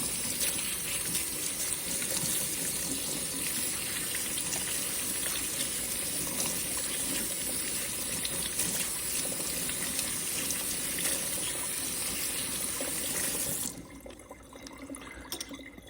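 Tap water runs steadily from a kitchen faucet while vegetables are washed for stock, a continuous close splashing gush that cuts off near the end.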